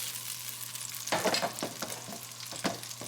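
Egg fried rice cooking on the highest possible heat, a loud steady sizzle and frying hiss with several sharp stirring scrapes and tosses in the pan, close and continuous.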